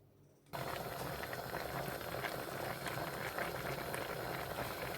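Steady bubbling and hissing of a pot of homemade plum ketchup ingredients simmering on a stove, a continuous dense wash of sound that starts abruptly after a brief quiet moment.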